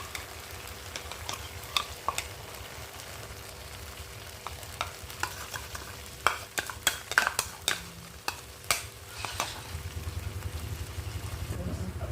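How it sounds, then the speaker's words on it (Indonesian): Chicken steak sauce, thinned with a little water, is stirred in a pan over low-to-medium heat: a quiet simmering hiss broken by scattered utensil scrapes and taps that bunch together toward the end. "Udah, jadi kita aduk, jangan sampai gosong ya."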